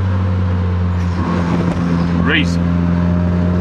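Turbocharged 4A-FE Toyota MR2 AW11 pulling in third gear at half throttle, a steady droning engine note with whine from inside the cabin, while an excited voice talks over it.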